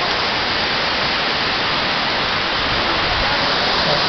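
A waterfall at Blue Hole Springs pours in a steady, dense broadband roar, loud and close, with no breaks for the whole stretch.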